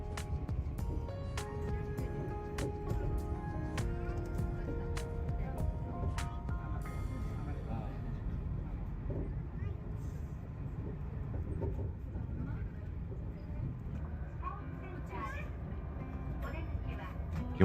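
Steady rumble and rattle of the Chiba suspended monorail in Japan during a ride, a continuous low drone with faint chime-like tones early on and quiet voices over it.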